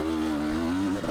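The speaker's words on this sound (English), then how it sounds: "if you haven't ridden one of these fuel injected two-strokes yet" KTM 300 XC-W fuel-injected two-stroke dirt bike on an off-road trail, its engine droning steadily and loud with a slight pitch wobble, with no voices over it.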